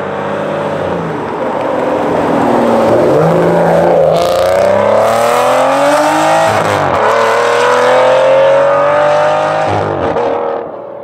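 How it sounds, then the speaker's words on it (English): A loud Aston Martin GT12 engine revs up and down in rising and falling sweeps, close and powerful, with no talking. "You can still hear the car."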